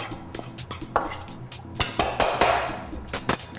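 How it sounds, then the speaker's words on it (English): A fork mixing stuffing in a bowl, close irregular clinks and scrapes against the bowl with a few louder taps, no talking. "So I first mix it up with a fork."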